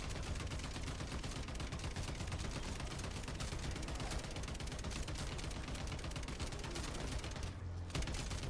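Dense, continuous gunfire of overpressured rounds in MW3 Zombies, rapid shots hammering on with almost no gaps, loud and close, with a brief dip near the end.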